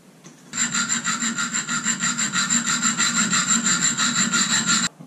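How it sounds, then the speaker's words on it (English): A steady, fast series of harsh rasping file strokes on cut metal pieces, close and loud, keeping an even rhythm for about four seconds before stopping abruptly, with no talk. "nice, I'll just file those off."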